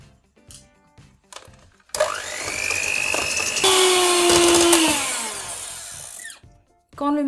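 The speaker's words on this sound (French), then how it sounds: "avec le batteur électrique" An electric hand mixer whirs loudly as it beats four eggs with sugar for a rainbow cake sponge, its motor pitch shifting midway, with brief clatter before and after.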